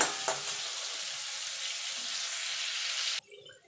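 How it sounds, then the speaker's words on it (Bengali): Prawns frying in hot oil while being stirred in a pan, a loud, steady close sizzle with faint scraping that cuts off sharply near the end. "চিংড়ি মাছটা খুব বেশি ভাজবেন না, তাহলে কিন্তু চিংড়ি মাছটা শক্ত হয়ে যাবে"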